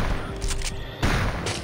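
Shotgun fire against zombies in Turok 2: Seeds of Evil, with loud, close blasts and booming bursts over a dense, noisy game soundscape, about two heavy shots in quick succession.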